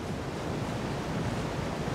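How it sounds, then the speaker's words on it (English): A waterfall in the video game Palia rushes as a dense, steady roar of falling water, loud and continuous with no talking. "Is there anything behind the waterfalls?"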